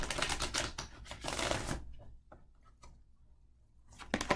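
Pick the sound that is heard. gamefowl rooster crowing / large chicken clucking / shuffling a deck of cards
shuffling a deck of cards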